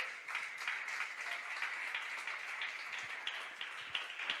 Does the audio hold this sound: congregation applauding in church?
yes